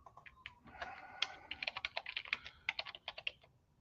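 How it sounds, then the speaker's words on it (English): Typing on a computer keyboard, with rapid irregular key clicks, bursts of close, crisp taps and short pauses, heard alone without talk. "Stop typing."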